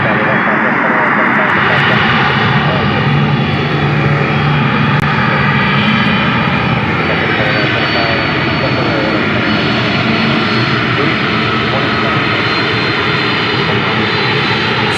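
A FedEx jet aircraft taxiing at Memphis International Airport gives a loud, steady engine roar and whine that fills the whole span with little change, while a voice speaks faintly underneath.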